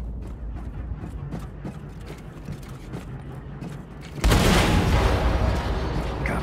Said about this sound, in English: Achtung, Explosion in der Hangarbucht.